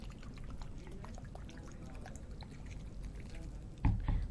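Water pours into a glass for a classroom science activity, a soft close trickle with small splashes, ending in a brief louder gurgle.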